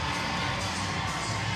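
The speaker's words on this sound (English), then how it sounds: "Duncan making the 220th straight sold-out crowd here in historic Grayson Stadium go crazy" A sold-out crowd at historic Grayson Stadium roars and cheers continuously during a Savannah Bananas baseball game, a dense, fairly distant wall of shouting and whooping.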